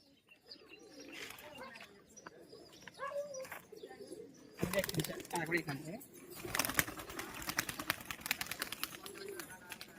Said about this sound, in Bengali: সব বাজির পায়রা আছে